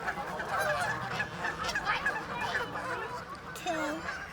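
Waterfowl at Webster Pond on a spring nature walk call loudly, with repeated honking, quacking cries in an overlapping chorus that rises and falls, some calls sliding in pitch.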